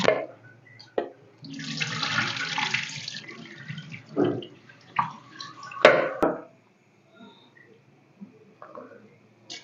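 Rice and lentils being washed in water, with bursts of splashing, swishing and pouring in short sessions separated by pauses, fairly close and moderate in level.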